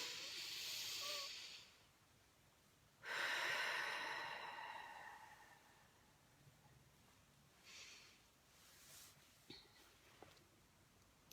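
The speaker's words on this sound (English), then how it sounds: "Deep breath." A person takes a deep breath: two long, loud, hissing breaths close to the microphone, followed by a few quieter, shorter breaths with near silence between them.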